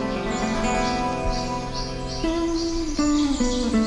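A Kabyle nuthatch sings in Taza National Park near Jijel, Algeria: steady, bright chirping phrases repeat over several seconds against a dense wash of other birdsong and outdoor ambience, with no one talking.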